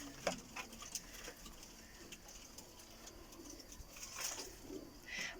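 Pigeons of a parwazi flying breed cooing softly in a loft, low and faint, with occasional light rustles and taps.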